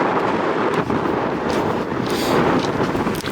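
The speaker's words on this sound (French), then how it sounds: "Il y a un vent de malade ici." Strong wind roars steadily and loudly across an open mountain trail near Ala-Kul lake in Kyrgyzstan, buffeting the microphone with constant broadband rush and gusts throughout.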